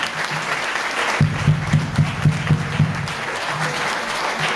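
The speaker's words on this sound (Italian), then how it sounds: "Applausi, applausi ai grandi attori di Sereni." Audience applause for child actors at a children's theatre show, with rhythmic, steady clapping in unison, moderately loud and close, running throughout.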